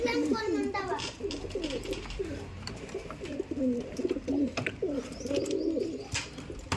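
A newly paired male and female pigeon coo repeatedly at close range in soft, rolling phrases that run steadily through the whole stretch, with faint background chatter.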